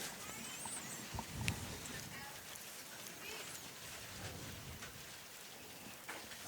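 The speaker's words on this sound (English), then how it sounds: "And the rain has decided to come back here." Cold rain falls steadily during an outdoor high school softball game, a soft continuous hiss with scattered drops, heard faintly behind a commentator's voice.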